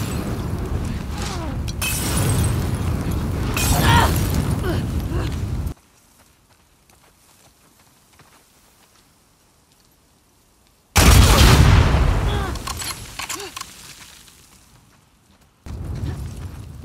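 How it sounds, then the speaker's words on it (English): A mine exploding under a horde of infected in The Last of Us Part II, loud booming blasts and shattering debris in two bursts separated by near silence, each decaying over several seconds. "when we jump over this fence, the horde explodes on the mine"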